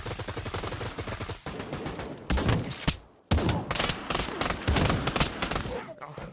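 Gunfire from a shotgun sniper build in Pavlov VR, a virtual reality shooter, in dense repeated bursts and a rapid fusillade, loud and close, with a brief silent gap midway before the firing resumes.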